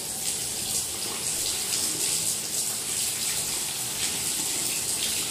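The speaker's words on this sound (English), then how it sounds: "we're going to start it off with just putting some water in it. It's just cold water" Cold water gushes steadily from a tap into a bathtub, a close, continuous hiss and splash with no talking.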